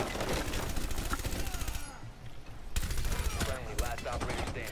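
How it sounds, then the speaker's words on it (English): Rapid automatic gunfire from a Rainbow Six Siege match, dense and continuous bursts close up, with excited players talking over it. "who's shooting me?"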